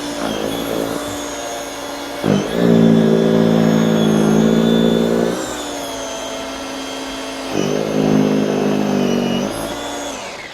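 An EGO 56-volt cordless snow shovel whirs over gravel, its electric motor and auger rising in two loud bursts as it bites into the stones, then easing back between passes.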